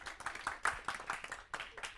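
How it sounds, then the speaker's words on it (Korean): Audience clapping in a Korean church setting, a few sparse, uneven claps spread across two seconds rather than a full ovation, fairly faint and loose in rhythm. "박수."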